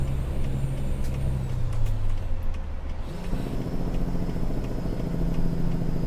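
A heavy truck hauling double trailers in American Truck Simulator slows under braking, its low engine drone dropping in pitch, then settling and picking back up, loud and continuous with no talk.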